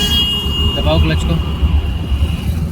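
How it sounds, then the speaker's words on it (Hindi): A car's engine rumbles and vibrates at low revs in second gear, a continuous low drone from inside the cabin with a voice briefly heard over it. "अभी गाड़ी वाइब्रेट हो रही देखो ना"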